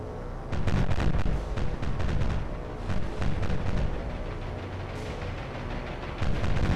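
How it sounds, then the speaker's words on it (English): Heavy anti-aircraft fire from warships in the naval game War on the Sea, a dense rumbling barrage of booming gun reports and thuds rolling continuously, loud and close with no voices. "Heavy anti-aircraft fire from the front 4 ships, as you'd expect."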